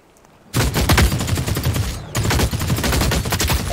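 A Kaiser gun in The Cycle Frontier opens up loud and close in rapid automatic bursts, with a brief pause before the fire resumes just as fast.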